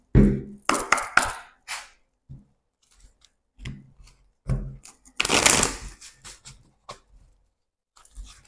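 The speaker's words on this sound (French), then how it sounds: "On va prendre une carte chakra du cœur pour vous." Chakra oracle cards being shuffled and drawn by hand, a series of crisp papery riffles and slaps in bursts with short pauses, close and fairly quiet.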